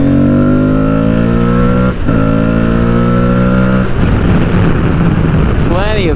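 An Aprilia Tuareg 660 adventure motorcycle pulls hard out of a corner apex, its engine note climbing steadily through a loud, close rev, a brief gearshift dip, then continued acceleration with rising wind roar.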